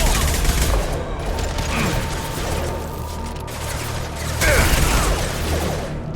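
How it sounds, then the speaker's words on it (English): Weapon gunfire in the Mass Effect 2 video game: loud, rapid bursts of shots with mechanical clatter, in two heavy volleys separated by a slightly quieter stretch, with battle voices now and then. "Firing a high-impact shot!"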